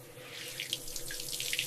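Shower water running steadily nearby, a continuous hissing spray with light splashing and scattered drips, fairly quiet and with no voices.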